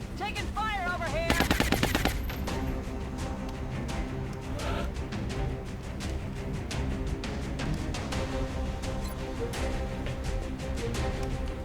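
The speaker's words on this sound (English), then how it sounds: "Taking fire over here." Rapid video game gunfire, a dense continuous stream of machine-gun shots with a louder burst near the start, steady and close throughout.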